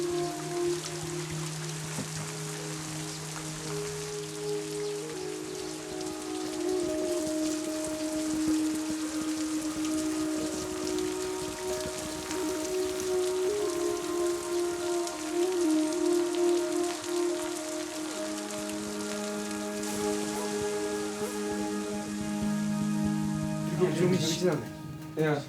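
A heavy downpour falls at a monastery, a constant broad rain hiss throughout. Sustained tonal sounds and voices layer over it.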